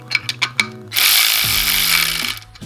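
A power tool drives a bolt into a billet alternator and power steering pump relocation kit for an LM7 engine in a 240SX, giving a steady, loud whirring burst of about a second after a few light clicks.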